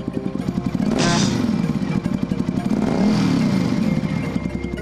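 A motorcycle engine revs with a rough, pulsing rumble that swells loudly around the one-second mark and again near three seconds, holding a steady throaty idle between bursts with no talking over it.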